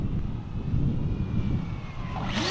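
A Dynam Gloster Meteor twin 70mm electric ducted-fan model jet on 4S flies far off, a steady faint whooshing drone that swells slightly toward the end.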